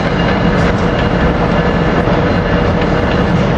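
An Amtrak or NJ Transit train rumbles loud and close through Philadelphia's 30th Street Station, a steady dense roar of wheels and rail noise with no voices over it.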